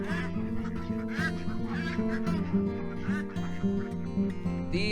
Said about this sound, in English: These were ducklings this spring. Now they're all grown up.